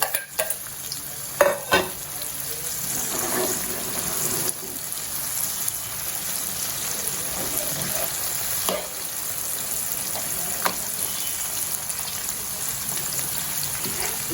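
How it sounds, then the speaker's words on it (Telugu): Gongura chutney stirred in a pan just after tempering, with the flame turned off, gives a continuous scraping and stirring noise with a soft sizzle and a few sharper knocks of the spoon against the pan near the start. "పోపు అయిన తర్వాత ఫ్లేమ్ ఆపేసేసి పచ్చిని యాడ్ చేసేసుకుంటాను బాగా మిక్స్ చేసుకోండి"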